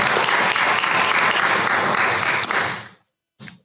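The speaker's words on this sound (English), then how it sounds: "All right, let's give them a round of applause." Audience clapping at a university board of supervisors meeting: a dense burst of applause from a room of people, fading out after about three seconds, then a brief short patter at the end.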